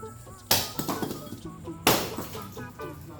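Rubble rock thrown down to break it apart for a reef tank rockscape, giving two sharp, close cracking impacts about a second and a half apart, each followed by small clattering fragments.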